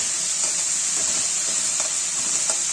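Chopped large onions sizzle in hot oil in a pressure cooker while frying for mutton keema, a steady bright hiss with occasional soft stirring clicks, close and continuous, with nobody talking.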